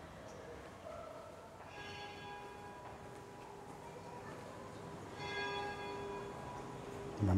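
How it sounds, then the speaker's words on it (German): Church bells strike in a city street in Essen on a summer evening at six o'clock, with two clear rounds of ringing tones over a steady hum of distant urban traffic, loudest in the second round. "Man hört die Glocken schlagen."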